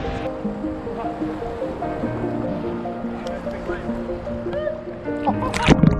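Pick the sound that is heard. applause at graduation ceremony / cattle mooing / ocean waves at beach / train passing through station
ocean waves at beach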